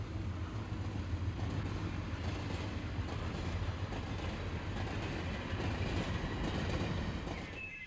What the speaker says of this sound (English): Steam trains of the Western Railway departing year-round from Glasgow make it possible to explore the Highlands comfortably